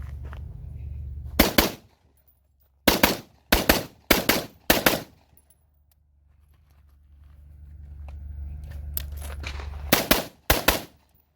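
A rifle fired through a YHM Turbo T2 suppressor empties its magazine outdoors in spaced clusters of loud, muffled, thumping shots, two or three at a time with quiet gaps between them.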